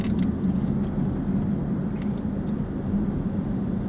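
Steady low rumble of a car driving, road and engine noise filling the cabin at a constant level, with a few faint clicks near the start and middle.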